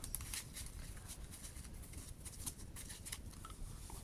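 A deck of trading cards is pile shuffled, giving a run of soft, quick card slaps and ticks at close range, faint and unbroken by speech.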